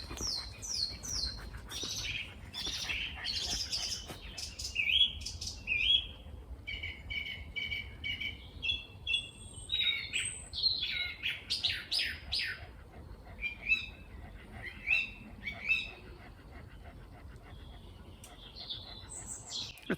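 Birds sing outdoors in a lively, varied chorus of chirps, trills and whistled phrases, steady and moderately close across the whole stretch, over faint background hiss.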